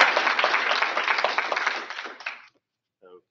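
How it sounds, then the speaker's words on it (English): An audience at an IoT summit in Banff, Canada, applauding a speaker, a dense burst of clapping that holds for about two seconds and then tapers off, followed by a brief voice. "Let's have a big round of applause for Dr. Ferber."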